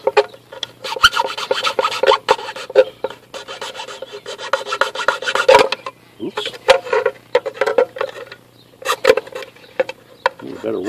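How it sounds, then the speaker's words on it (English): Triangular file rasping holes square for a carriage bolt on a trailer light, continuous close scraping strokes in uneven rhythm, loud and dominant with brief pauses between passes. "we need to file these holes square so that the square under the head of the fastener and the carriage bolt will be engaged"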